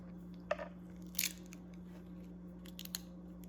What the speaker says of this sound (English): So I'm gonna cut through the skin and cut this piece in half.